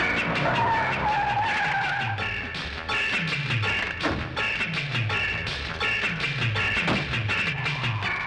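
A car pulls away with tires skidding and squealing, loud and close, in a run of repeated screeching bursts over a revving engine, with no voices.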